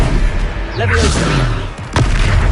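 Leviosa spell cast in the video game Hogwarts Legacy during a boss fight, a loud magical whoosh with sweeping tones followed by a sharp booming impact, amid dense battle noise and a shouting voice.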